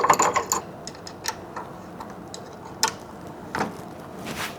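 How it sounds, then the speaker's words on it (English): Bolts being tightened with a ratcheting tool to secure the light bar bracket on a 2021 Ford Bronco XL, producing quick clicking ratchet bursts and small metallic taps spaced irregularly. "Secure the bracket to the light bar using the provided hardware."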